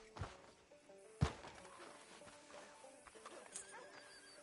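A horse in the Red Dead Redemption 2 video game whinnies and shifts, with a sharp thump and scattered hoof clops, fairly quiet beneath ambient background noise.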